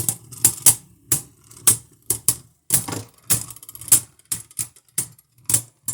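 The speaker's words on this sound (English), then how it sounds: "a little bit of scraping there" Beyblade Burst Pro Series spinning tops clashing and scraping in a plastic stadium: sharp, irregular clicking hits and brief scrapes in quick succession, close and fairly loud.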